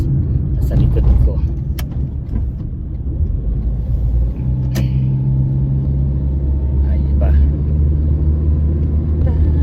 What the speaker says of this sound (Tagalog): meron pong magandang sasakyan BMW na top down kung sa likuran